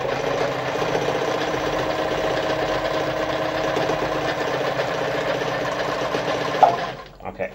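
A Veritas automatic 8014/3 sewing machine runs steadily at short stitch length, a continuous close mechanical whir that cuts off near the end, with a brief spoken word over it.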